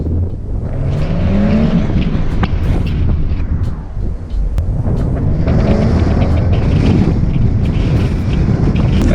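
A 2020 BMW M240i with a manual gearbox is driven hard, its engine roaring loudly with rising revs, a brief dip as if for a gear change, and wind noise buffeting the microphone.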